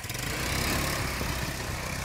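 A 150cc quad bike engine runs with a rough, buzzing putter, steady and fairly close, for a couple of seconds.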